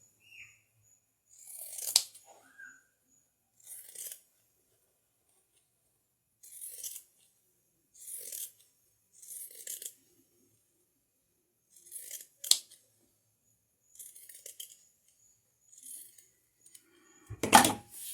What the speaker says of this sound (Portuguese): eu vou tirar todo o excesso com a tesoura de picotar mesmo